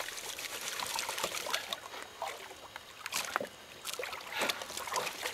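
A heavy gold pan of black sand being worked in water, giving repeated splashing, sloshing and trickling sounds at close range with no talk.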